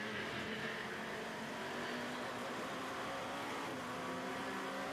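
On-board engine of the number 37 car at the Le Mans 24 Hours qualifying, a steady, dense roar holding at high revs throughout with no voices.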